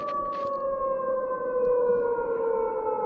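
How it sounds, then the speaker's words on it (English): Shrill air raid siren with a steady wailing tone that slowly sags in pitch, loud and continuous throughout, with a brief burst of noise near the start and no talking. "A very, very loud, could work as an air raid siren."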